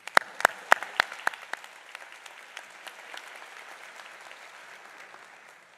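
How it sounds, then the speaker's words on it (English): Audience applause at a university spring commencement ceremony, opening with several loud, sharp claps up close that soon blend into a fading patter of many hands across a large hall. "how about one more round of applause for Ms. Shabazz?"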